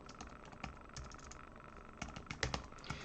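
Quiet, rapid keystrokes on a computer keyboard, an irregular patter of clicks with a few louder taps near the end, close and alone.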